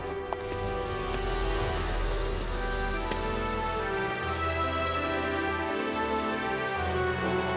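Steady rain patters on a surface, a soft, continuous hiss with scattered droplets and a low rumble beneath, fairly faint.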